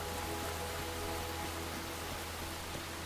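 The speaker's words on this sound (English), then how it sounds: "It's raining again." Steady, dense rain hisses evenly and without pause in the video game Enshrouded, a continuous wash of falling water that fills the whole stretch with no voices.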